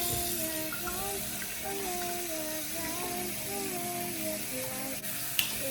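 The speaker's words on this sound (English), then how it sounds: "We'll wash your feet until the ankle like this." Running water splashing steadily over feet during wudu ablution, a continuous close wash with a faint tonal hum beneath and a small clink near the end, no voices.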